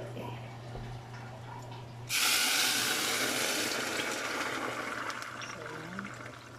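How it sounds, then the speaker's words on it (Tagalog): Water pours into a cooking pot, a sudden loud rushing splash that starts partway through and continues steadily to the end, with a low hum beneath it before the pour. "lagyan natin guys ng tubig."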